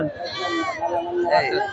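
Goats bleat with wavering, nasal cries close by at a goat market, mixed with people talking.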